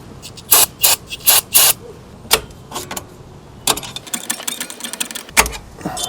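Ratchet being uncranked on an oil burner rig built from drums: several loud, close bursts of clicking in quick succession, followed by quieter, scattered clanks and rattles of metal.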